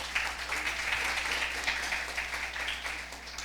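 Steady round of applause from an audience at a junior science quiz competition in Antigua and Barbuda, continuous and moderately distant clapping filling the whole moment with no talk.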